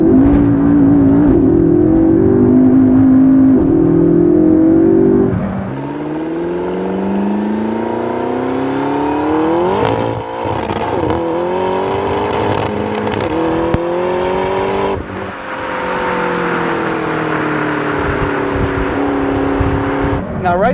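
A Ferrari 458 or McLaren MP4-12C supercar launches hard with its wheels spinning. A loud, steady engine roar climbs through rising revs with several shifts and surges, and a voice talks over it at the start.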